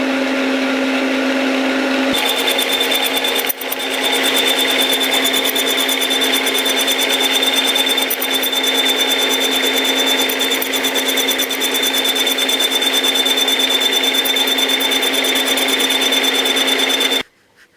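Metal lathe machining a welded motorcycle fork yoke: a steady, loud mechanical whine with a high cutting tone, running continuously for most of the time before stopping abruptly near the end, no talking.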